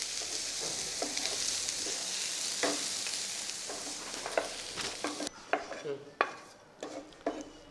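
Onions being sautéed in a pan until golden brown: a steady sizzle with repeated scraping stirs and light clinks of a spoon against the pan, becoming quieter and sparser near the end.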